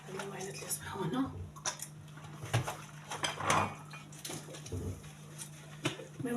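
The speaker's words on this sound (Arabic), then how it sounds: "انا غادي نغسل المواعينات يا اختي" Pots, plates and cutlery being washed by hand in a home kitchen: intermittent clinks, knocks and splashy scraping close by, with someone talking over the clatter.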